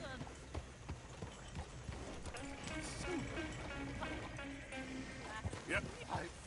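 Hooves of a horse-drawn coach clip-clopping in Red Dead Redemption 2, a rhythmic clatter running under overlapping voices and game ambience.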